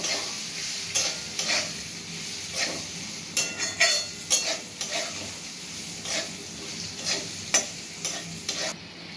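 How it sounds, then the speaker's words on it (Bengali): Mourola fish curry with salt, a little turmeric and mango kasundi is stirred in a pan, with repeated close scraping spatula strokes over a soft frying sizzle. "এবার সবগুলো ভালোভাবে নেড়ে দেব।"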